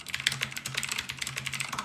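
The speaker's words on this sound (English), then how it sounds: "typing feel on these specific blue switches is really nice" Fast typing on an OMOTON MK201 tenkeyless mechanical keyboard with Outemu Blue clicky switches: a steady, close stream of crisp clicks and clacks with no talking.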